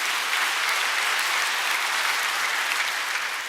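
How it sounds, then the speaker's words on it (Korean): Dense, steady applause from a church congregation during a Korean worship service, close and continuous for the whole stretch with no voices above it. "우리 속죄함 영광의 주님께 박수 드립니다."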